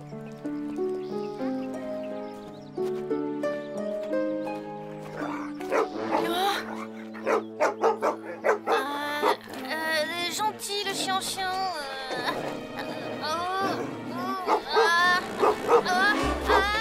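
A cartoon dog barks in a series of sharp yips over a bright musical score, the barks coming in quick bursts through the middle and later part.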